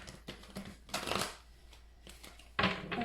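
Tarot cards are shuffled in short bursts of riffling and flicking, with several quick rustling passes separated by brief pauses. The sound is close but fairly quiet.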